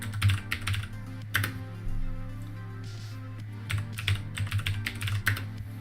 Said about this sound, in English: I will enter my password in for this one